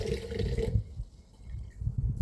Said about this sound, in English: What I'm going to be doing is just straining this off using the sieve, and just pour that water into the tub